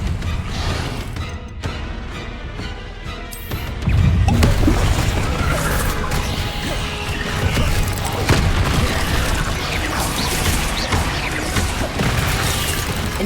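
Incendio fire spell in Hogwarts Legacy combat: a series of sharp bursts gives way to a heavy whooshing boom, followed by a continuous roaring, crackling blaze with scattered impacts and a voice faintly underneath.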